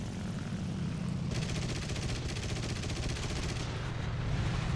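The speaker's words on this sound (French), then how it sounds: "Qu'est-ce qui tire comme ça là?" Rapid gunfire from aircraft machine guns, including 12.7 mm guns, in the War Thunder air combat game, a steady fast rattle layered over a continuous engine drone, loud and sustained throughout.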